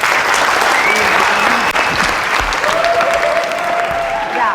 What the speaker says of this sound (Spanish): la vamos a recibir de nuevo con un fuerte aplauso